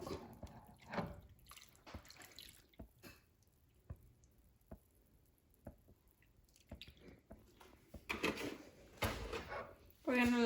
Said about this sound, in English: We're gonna go ahead and add half a gallon of milk.